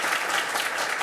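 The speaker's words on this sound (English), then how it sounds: "I just want a round of applause" Steady applause from an audience at a medical expert panel event, dense and continuous throughout, with no voices standing out.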